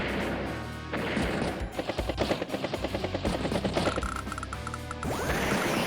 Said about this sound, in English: Missile strikes the bomber